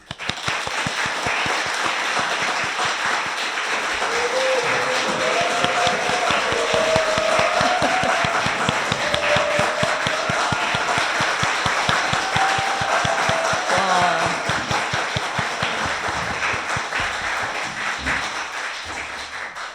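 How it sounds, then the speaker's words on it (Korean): Sustained audience applause at a live public broadcast debate welcoming three panelists, a broad, even wash of many hands clapping for nearly twenty seconds, with faint voices mixed in. "야, 역대급 박수 아닙니까?"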